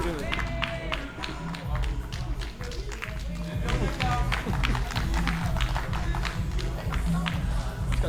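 Audience applause at a Coco House pageant result announcement, dense continuous clapping from a crowd that swells slightly louder partway through, with crowd noise mixed in.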